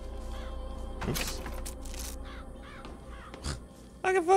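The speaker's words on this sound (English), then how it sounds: "I can fucking send crows at people" Summoned crows caw in BioShock Infinite, a flurry of harsh calls and flapping bursts over a low game hum, with a louder, closer burst at the end.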